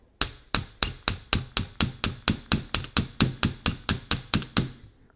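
A hammer strikes copper wire for a textured bracelet at a steady rhythm, about sixteen sharp, ringing metallic taps spaced evenly, each one close and clear with no talk.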